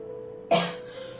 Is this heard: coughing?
yes